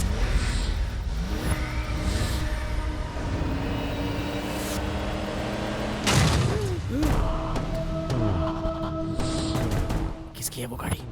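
Car engine revving and roaring in a Hindi-dubbed action movie scene, with rising and falling pitch sweeps, thuds and a loud burst near the middle, mixed under dramatic music and effects.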